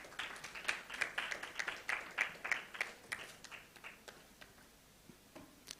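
Sparse applause from a small audience at a World Children's Day media symposium in Lagos, a handful of separate claps that thin out into scattered taps, fairly faint and distant, with no talk over them.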